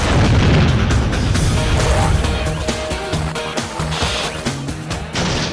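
A deep rumbling blast with rolling low booms and crackling debris, loud and sustained, the roar slowly settling with scattered bangs.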